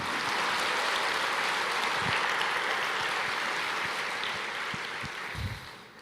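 A church congregation applauds continuously during a sermon, a dense steady wash of clapping that fades slightly toward the end.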